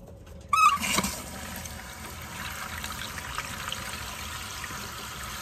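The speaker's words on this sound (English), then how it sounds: "I hear water running." Water trickles and pours steadily into a homemade automatic waterer, a soft continuous stream following a brief clunk as the flow starts.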